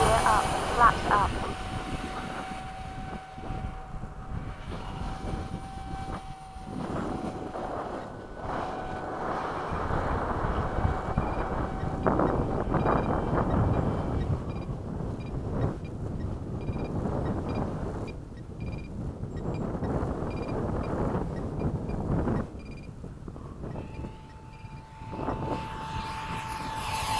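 Hobby King 70mm Skysword RC jet on a 6s battery flying overhead, its electric ducted fan whine rising and fading as it passes at varying distance, with wind buffeting and people talking at times.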